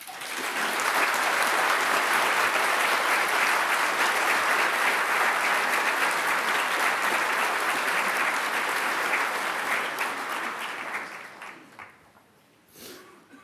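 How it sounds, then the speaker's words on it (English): Graduates at a graduation ceremony receive sustained, full applause from a large audience, steady and dense for about ten seconds before tapering off at the end. "please stand and receive their applause"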